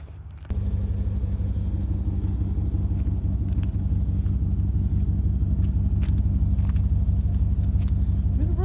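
A Dodge Durango with no power steering and 225,000 miles starts up and runs as it is moved, a steady, loud engine rumble that stays close and even throughout.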